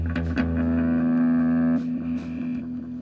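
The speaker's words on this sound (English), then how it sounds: "my amp is distorted enough and the delay" A distorted electric guitar rings out a sustained chord with echoing repeats trailing behind, loud and close.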